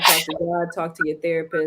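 A single sharp sneeze bursts out at the very start, loud and close, then gives way to someone talking calmly about relationships.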